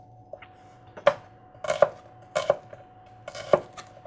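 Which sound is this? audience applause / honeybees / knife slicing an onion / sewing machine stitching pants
knife slicing an onion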